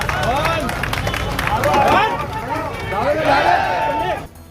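Street crowd clapping and chanting slogans in praise of police as a procession of 21 arrested accused is marched along a public road, a loud mass of voices and claps that cuts off abruptly at the end.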